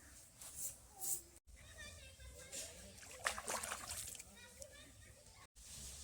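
Cut bhola fish pieces are washed by hand in a pot of water, faint sloshing and splashing in short bursts with brief pauses and cuts.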